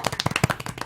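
A few people clap at an award show, giving a quick, uneven patter of close hand claps that is brief and moderately loud.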